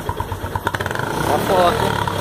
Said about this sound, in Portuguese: Acelera lá um pouquinho pra ver, acelera lá um pouquinho.